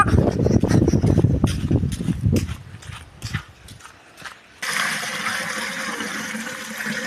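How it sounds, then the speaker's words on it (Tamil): Water pours into a fish tank during setup, a steady broadband gushing that starts abruptly partway through and continues loudly to the end, after a stretch of louder splashy knocking and handling noise. "தண்ணி ஊற்றிட்டு இருக்கிறான்."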